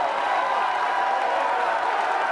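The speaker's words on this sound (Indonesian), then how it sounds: "silahkan kalau dari para pendukung pasangan calon kita boleh tepuk tangan" Supporters of the candidate pairs at a televised Jakarta gubernatorial debate applaud at the end of a session, a dense, steady wash of clapping and crowd noise that holds loud and unbroken throughout.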